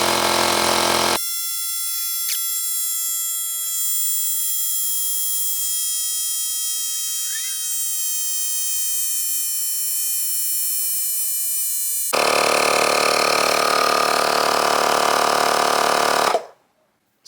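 Two Oak & Iron One rechargeable tire inflators run together in a steady, loud mechanical drone with a constant high whine, swelling louder near the end before cutting off abruptly.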